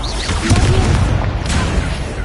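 A Confringo blasting spell detonates in Hogwarts Legacy, a loud, dense rumbling boom sustained across the whole stretch without any talk.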